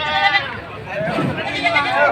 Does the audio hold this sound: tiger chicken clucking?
no